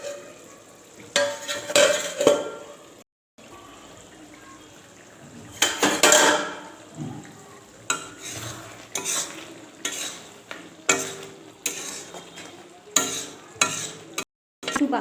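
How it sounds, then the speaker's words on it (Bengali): Chicken sizzles in a pan while a spoon stirs and scrapes in irregular bursts of clatter, with brief quiet gaps between the stirs. "একটু ভাজা হতে দেবো"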